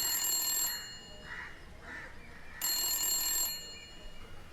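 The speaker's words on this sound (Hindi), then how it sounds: "देर से फोन बज रहा था।" A telephone rings in two long bursts separated by a pause, a bright trilling bell tone in a quiet room with no speech.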